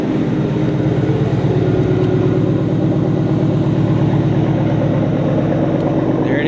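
A Ford 5.0 V8 car engine idles steadily with a deep, throbbing rumble, close and loud, constant throughout with no pauses.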